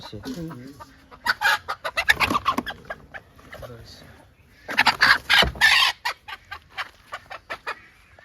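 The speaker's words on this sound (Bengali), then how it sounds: "দেশি মুরগি পুরো" Several native desi chickens cluck and cackle in bursts close by, with brief quiet gaps between the flurries.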